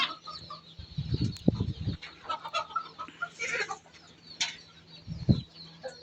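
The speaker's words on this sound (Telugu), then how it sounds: "కోళ్ళు ఎన్ని ఉన్నాయో రకరకాల కోళ్ళు అయితే పెంచుతున్నారు ఇక్కడ" Chickens clucking inside a small shed of coop compartments on a farm in Kuwait, with intermittent low clucks and calls, some nearby bursts, over a faint background hum.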